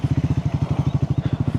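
A motorcycle engine thumps in a fast, even low pulse, close and steady, as the bike is ridden slowly along a risky road near Pulga village in Himachal.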